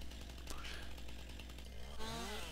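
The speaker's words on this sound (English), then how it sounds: "firing up the chainsaw and moving along the trunk and delimbing it like so." Chainsaw in the video game Farming Simulator 19 delimbing a felled tree trunk, a steady buzzing engine drone running throughout with a rising whine toward the end.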